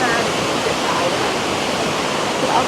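The Kroke E-Dok waterfall in Saraburi, Thailand, roars as a loud, steady, broadband rush of falling water. It holds without letup and fills the whole scene.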